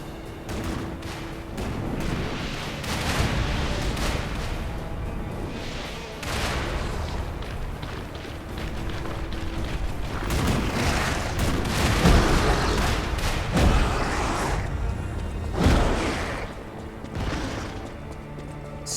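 Repeated booming cannon blasts in the video game Lies of P go off at irregular intervals over a dense, chaotic battle din, several heavy impacts standing out loud and near.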